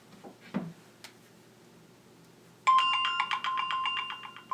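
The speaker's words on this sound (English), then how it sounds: "we should get a notification text that the power has been restored" A phone notification tone for a text alert about restored power rings out suddenly as a bright repeating electronic chime, close and clear, after a few seconds of quiet room noise.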